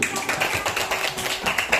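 Applause in a fourth-grade classroom, a dense close burst of many small hands clapping fast and unevenly for the whole moment.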